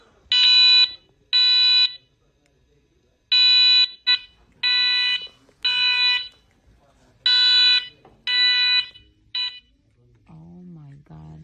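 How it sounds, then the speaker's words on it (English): An electronic alarm blares in a movie theater in loud, sharp beeping bursts, about nine of them in an irregular rhythm with short gaps, followed by a brief low voice at the end. "this alarm just starts going off"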